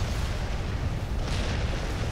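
Bombs detonate in the ICBM strategy game as a dense, continuous low rumble of booming explosions, loud and sustained without any talk.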